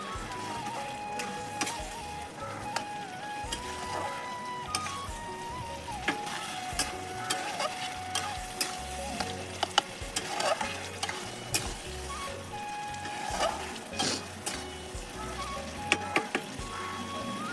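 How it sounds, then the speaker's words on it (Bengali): Spices and potatoes sautéing in a pan make a continuous sizzle with frequent clicks of a spatula scraping and stirring, close and steady throughout, no voices. "মশলাও কষাই, আলুটাও কষাই।"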